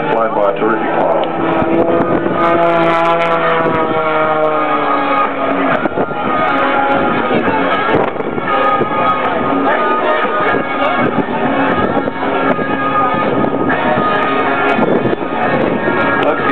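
A stunt plane flies aerobatic manoeuvres at the 2009 Avalon Airshow in Australia, its loud droning engine whining up and down in pitch throughout, with wind buffeting and a commentator's voice over it.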